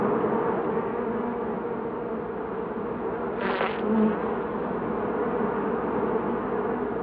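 Bumblebees buzz continuously with a steady droning hum, close and sustained, with a brief louder swell partway through as one passes near.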